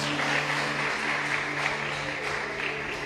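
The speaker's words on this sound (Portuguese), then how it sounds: "Aplauda ele aí, dá glórias a Deus" A church congregation applauds during a sermon, giving a short, even burst of clapping from many hands at moderate loudness, with a low steady hum underneath.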